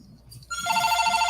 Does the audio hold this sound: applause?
no